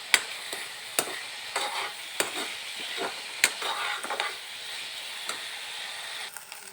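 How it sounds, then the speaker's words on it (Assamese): Homemade ari is fried in a pan until its water dries off, with a soft hiss under repeated sharp scraping clicks of stirring, quiet and close, with no one speaking. "পানীখিনি শুকাই যোৱালৈকে ভাজি থাকিম।"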